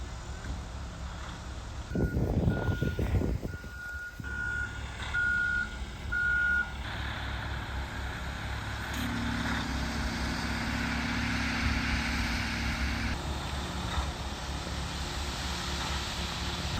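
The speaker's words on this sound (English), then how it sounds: "We got a concrete truck up here!" A heavy concrete truck climbing a hill during a storm sounds a run of evenly spaced reversing beeps over a steady engine drone. The beeps stop and the low rumble carries on beneath the wind.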